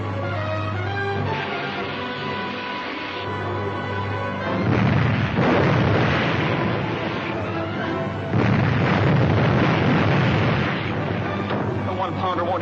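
A one-pounder naval gun fires amid explosions in a 1942 film, heard as heavy booms and rumbling blasts swelling over a dramatic orchestral score, growing louder in the second half.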